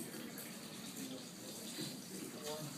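Tap water runs steadily into a sink as a penny is rinsed under it, a continuous close splashing hiss with no pauses.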